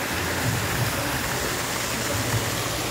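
Water running down a pool slide at a recreation centre in Portoviejo, a steady, fairly loud rushing splash that stays even throughout, close by, with no voices over it.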